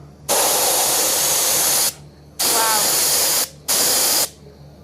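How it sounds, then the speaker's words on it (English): Three loud bursts of hissing spray from a water jet aimed at the diffuser of an F1 car, each lasting one to one and a half seconds with short gaps between, close and forceful, with a brief voice under the second burst. "That the expansion of the diffuser is creating this spray"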